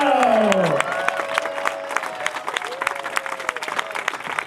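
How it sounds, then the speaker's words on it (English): Crowd applause and light cheering welcome Team AkzoNobel to the Lisbon finish of Leg 1 of the 2017-18 ocean race, sustained clapping running under a fading amplified voice at the start. "A round of applause to Team Axa Nobel."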